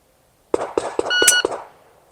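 Shot timer at a shooting range emits a rapid string of short, sharp electronic beeps, roughly five chirps in quick succession with a brief sustained tone among them, close and clear against near silence.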